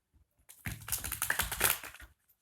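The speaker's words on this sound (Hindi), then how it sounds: "थोड़ा सा अच्छे से शफल कर लेती हूँ" Tarot cards being shuffled by hand at close range, a dense run of quick papery riffling clicks lasting about a second and a half, with no talking.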